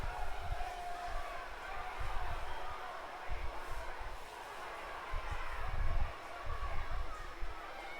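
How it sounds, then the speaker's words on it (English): Loud wrestling arena crowd noise, a dense roar of cheering and shouting with men yelling from the stands, rising and falling throughout, with commentary talk over it. "I can hear some guy yelling off camera"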